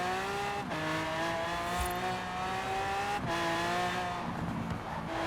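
A Lamborghini Veneno's engine drones loud and steady in Forza Horizon 4 on wet roads, its pitch climbing, then dropping sharply at two quick gear shifts, with no talking.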